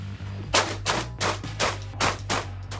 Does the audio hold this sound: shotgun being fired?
yes